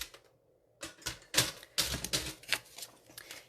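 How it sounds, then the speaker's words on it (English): A sheet of cardstock is cut apart in a series of crisp, close snipping and scraping bursts, irregular and separated by short pauses, after a brief quiet start. "So we're going to cut it apart."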